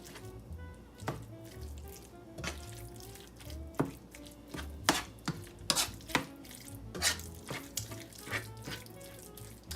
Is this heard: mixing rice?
yes